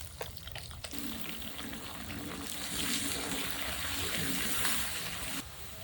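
Water pours into a pan of fish curry with black cumin, a steady splashing stream running for several seconds at close range, with no talk over it.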